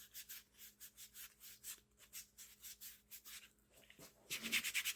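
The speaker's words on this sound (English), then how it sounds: "I'll take me some sandpaper, kind of smooth up the plastic part of that" Sandpaper rubbed back and forth over the plastic part of a rifle recoil pad, a steady series of quick, close scratchy strokes in an even rhythm that grows louder and faster near the end.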